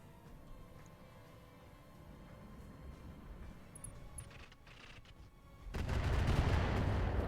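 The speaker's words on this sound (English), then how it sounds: "Fucking rocket pod did so much damage." Rocket pod fire in the BattleTech Roguetech mod: a low, rumbling wash of game combat with scattered bursts, swelling into a loud, dense barrage in the final seconds.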